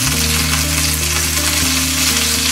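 Masala-coated Mangalorean mackerel fries in a pan with a loud, steady crackling sizzle that fills the whole moment, close and unbroken, with no talking.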